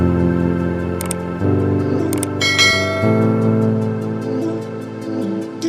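A bright notification-style bell chime rings out once over steady background music, fairly loud and up front.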